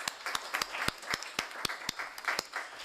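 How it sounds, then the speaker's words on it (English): Conference audience applauding after a panel, a sparse scattering of individual claps with distinct sharp hand strikes over a soft background, moderately close and without talk. "let's give a big applause for our ladies."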